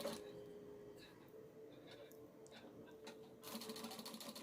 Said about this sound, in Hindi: और फिर नीचे की ओर से हम इस पर सिलाई लगाएंगे इस तरह से।